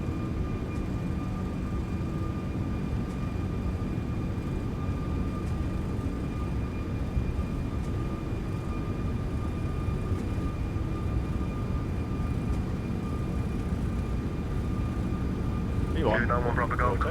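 Steady roar of a Toliss A340 airliner accelerating down the runway in the X-Plane 11 flight simulator, a constant low engine drone with a faint high whine, while an air traffic controller's radio voice talks over it.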